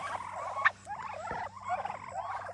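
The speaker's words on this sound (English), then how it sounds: "he's also raising some turkeys" Farm turkeys gobble in repeated bursts of burbling calls, several in quick succession, moderately close over a low background hum, no talk.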